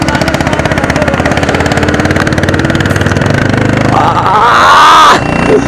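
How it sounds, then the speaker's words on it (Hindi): Two motorcycles, a Bajaj Pulsar NS 125 and a Royal Enfield-style Bullet 350, run side by side at full throttle in a drag race, giving a loud, steady engine roar that rises and strains sharply near the end before dropping off. "दोनों साथ चलती हुई भाई एक फुल थ्रॉटल के साथ"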